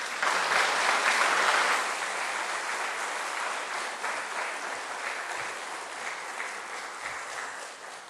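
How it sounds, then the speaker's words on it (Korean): A church congregation applauds to welcome the pastor at a Sunday worship service, a full, even roar of many hands clapping together that peaks at the start and then holds steadily, easing slightly at the close. "우리 목사님 나오실 때에 늘 이렇게 박수로 이렇게 맞이하시면 좋겠습니다"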